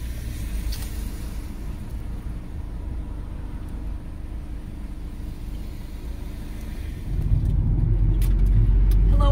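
A Ram ProMaster City van moves through traffic on Route 4 in Florida, a steady low road rumble and engine drone heard from inside the cab, growing louder and heavier toward the end.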